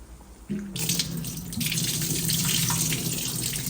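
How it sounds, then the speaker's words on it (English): Raw liver rinsed under a running kitchen tap, the water starting abruptly and then gushing steadily into the sink, close and loud, with no voices. "to wash the liver and things, you see? To wash your meat."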